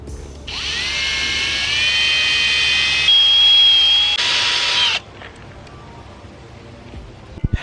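A power drill with a 500-grit sanding pad buffs a car headlight, giving a loud high whine that rises as it spins up and holds steady for several seconds, shifts pitch under load, then cuts off abruptly.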